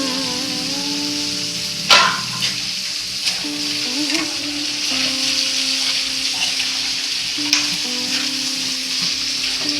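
Finely chopped onions sizzling in hot oil in a cooking pan, a continuous close frying hiss with occasional sharp clinks and scraping of a stirring spoon, no voices.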